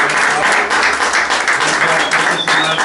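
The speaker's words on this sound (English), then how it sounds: "let's give her a big round of applause" Sustained audience applause fills the room at a business presentation, a dense steady wash of many hands clapping, fairly loud and close, with faint voices mixed in underneath.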